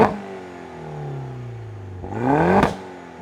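Mini GP2 road-legal race car with a 1.6 litre four-cylinder N18 petrol engine revving close up, a falling drone then a sharp rising rev that peaks with a crack-like bang before dropping off.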